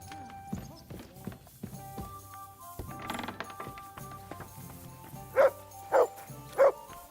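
A dog barks three times in quick succession near the end, fairly loud and close, after quieter mechanical clicking and faint background talk.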